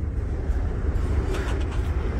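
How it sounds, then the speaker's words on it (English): A freight train idles or rolls in a train yard, a steady low rumble with a dense, noisy hiss on top, continuous and fairly close for a couple of seconds. "this train here has a DPU about 8 or 10 cars up"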